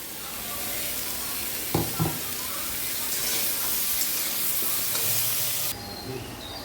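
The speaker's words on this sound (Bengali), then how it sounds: "নুন দিয়ে এবারে ফ্রাই করি" Mango pieces frying in a pan with salt, a steady hiss and sizzle with a couple of brief stirring knocks, continuing throughout before the high hiss drops off near the end.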